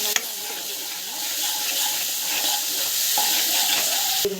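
Onions sautéing in oil for kara kuzhambu, a steady close sizzle with scraping stirring sounds and a sharp clink at the start and end.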